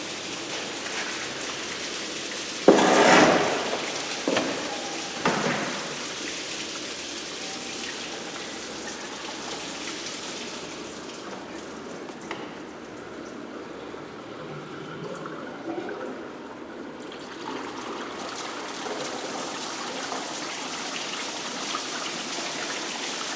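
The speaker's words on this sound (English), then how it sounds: "Now I've got most of the coolant out of it and just gonna flush it out" Water running steadily as it flushes residual coolant out of a Chevy Silverado / GMC Sierra truck engine, a continuous splashing wash with a few louder bursts near the start.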